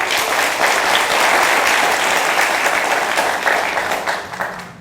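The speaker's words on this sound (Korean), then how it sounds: "다시 한번 큰 박수 부탁드립니다." Loud, dense applause from a large crowd at a university entrance ceremony held at Ajou University, a continuous wash of clapping that stays strong throughout before tapering slightly at the end.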